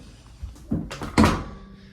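Home elevator doors slide and thud, a few dull knocks and rattling movements close by in a quiet space between floors.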